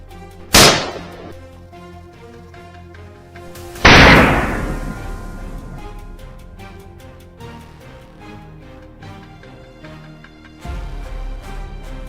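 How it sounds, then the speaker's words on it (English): Two sharp, loud gunshots crack out a few seconds apart during a wild boar hunt, each ringing and decaying through open surroundings, with a lower thump near the end and a quiet background. "Right after, the gunshot rang out."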